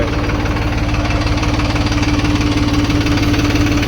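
A tractor engine idles in a field during sowing, with a low, even throbbing rumble throughout, close by and fairly loud, with no talking.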